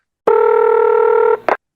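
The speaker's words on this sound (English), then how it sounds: "As soon as I hear that ringtone" A telephone ringtone from a prank call recording plays as one loud, steady electronic tone held for about a second, followed by a brief second burst, clean and alone.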